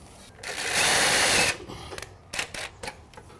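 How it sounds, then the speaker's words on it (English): A power tool drives a fastener into carport framing trim for a screened-in porch build, a loud, close whir lasting about a second, followed by several short clicks and knocks. "We're gonna put a fastener right here in the middle."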